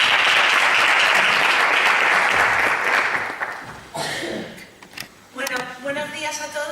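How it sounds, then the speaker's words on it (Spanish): Audience applause at a technical conference session, loud and sustained for a few seconds before fading, followed by a few scattered claps and then a person starting to speak. "Pues nada, un aplauso."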